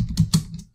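A few quick keystrokes clack on a computer keyboard, close and crisp, in a brief uneven burst of about three taps with no voices.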